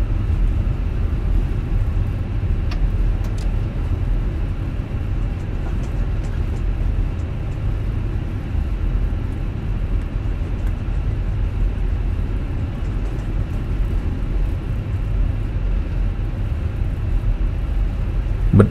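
An Airbus A320 slowing on the runway under reverse thrust gives a loud, steady, broadband roar and low rumble heard from inside the aircraft, continuous throughout with no talk.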